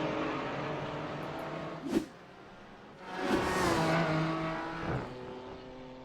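GT4 race cars in a racing video game at Spa, with a steady engine drone, a brief contact thump near two seconds and a louder surge of revving from three seconds on, with no talk.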